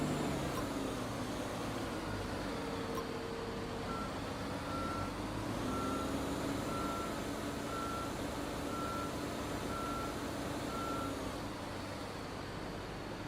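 Articulated truck in Construction Simulator 2 sounding its reversing alarm, a steady run of evenly spaced beeps over a continuous engine drone and ambient site noise, with no talking.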